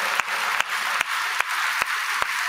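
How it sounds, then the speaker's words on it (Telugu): A church congregation claps during a sermon: dense crowd applause with a rhythmic beat, sharp accents falling roughly every 0.4 seconds. "ఇది నమ్మితే కొట్టి చప్పట్లు కొట్టి దేవుని మహిమపరచు"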